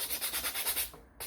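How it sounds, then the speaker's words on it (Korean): Sandpaper rubs back and forth on a small wooden toy car, a soft rhythmic rasping of about eight even strokes that then stops briefly before one more scrape, close and alone. "대체적으로 이 자동차 목공은 사포질이 그렇게 어렵지는 않네요."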